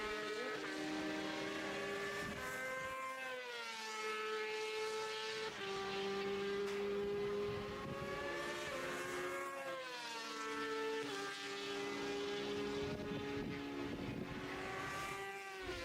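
A Ducati 888 classic racing motorcycle at a classic bike festival race, its engine howling loud and close as it revs up and down through repeated gear changes, the pitch climbing and dropping over and over.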